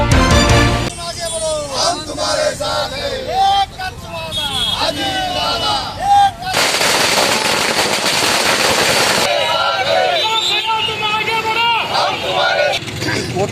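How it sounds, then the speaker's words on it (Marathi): Rapid crackling bursts of firecrackers going off outdoors at a political party workers' celebration, loud and continuous, with a crowd cheering and shouting throughout. "भव्य फटाके फोडून जल्लोष करण्यात आला"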